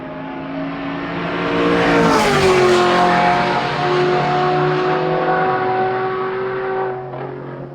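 Bandit Turbo S race car rounding the last corner at Summit Point circuit, a loud close engine roar that rises, shifts pitch as the car passes with a hint of tire squeal, then holds and trails off.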